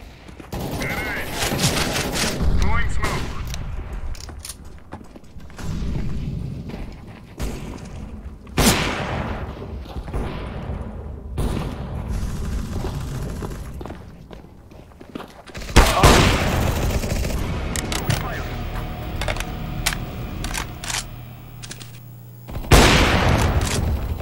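Shooting video game gunfire, repeated loud bursts and single shots with booming impacts spread across the span, while a player talks in between.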